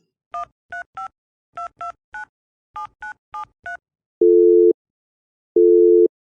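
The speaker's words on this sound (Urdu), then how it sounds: "پھر اس نے موبائل اٹھایا اور ایک نمبر ملایا۔" A number is keyed into a mobile phone: ten crisp dual-tone keypad beeps come in three quick groups, followed by two long steady low tones of the line ringing, clear and close with no speech.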